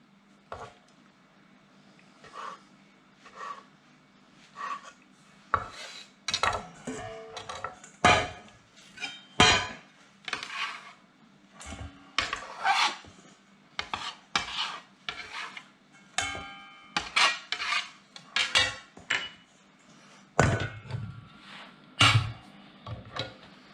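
A knife chops rye bread into cubes on a cutting board in a kitchen, making repeated crisp thuds and crunchy cuts in uneven bursts, close and fairly loud, with no talking.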